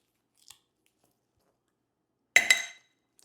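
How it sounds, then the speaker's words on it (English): A couple of ice cubes dropped into the smaller tin of a cocktail shaker: one faint tick, then a sharp close clatter of ice hitting metal that rings briefly and dies away, otherwise silent. "add a couple ice cubes to the smaller tin."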